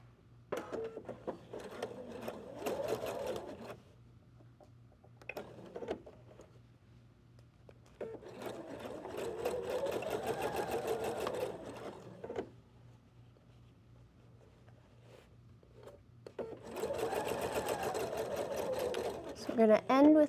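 A sewing machine stitches the corner of a pillow in three steady runs, close and moderately loud, with quiet pauses between them as a person talks.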